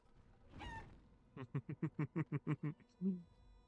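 Chickens in Dragon Age: Origins: a squawk followed by a quick run of about nine rhythmic clucks and a final cluck, fairly close and clear.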